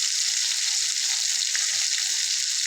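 Onion, garlic and cumin paste sizzles steadily in hot oil, a dense continuous frying hiss held close and loud with no voices over it.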